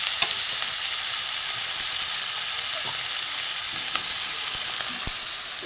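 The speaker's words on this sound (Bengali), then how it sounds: "ভালো করে ভেজে নেব।" Tomatoes and ginger fry in a pan for a dhaba-style egg tarka, with a steady, close sizzle broken by a few light clicks of a spatula and no talking.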